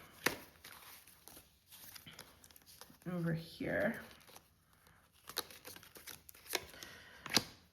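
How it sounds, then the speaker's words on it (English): Tarot cards being shuffled by hand, soft crisp riffles and taps close up, with a brief spoken phrase in the middle and quiet pauses between bursts. "Let's give this another quick shuffle."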